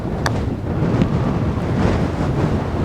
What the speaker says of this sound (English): So windy as well.